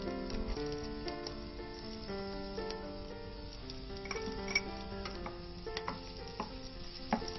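Chopped onion and garlic sizzle steadily in a hot pan, a constant frying crackle with occasional sharp scrapes as the mix is stirred, heard over faint background music.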